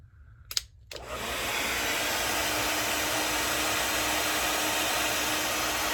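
A hair dryer switches on after a couple of faint clicks and blows cool air with a steady, loud whooshing hiss close by.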